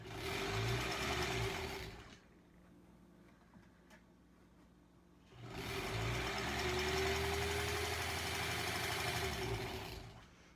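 A sewing machine stitches quilt strips for a granny squares block, running in two long steady bursts with a quiet pause between them.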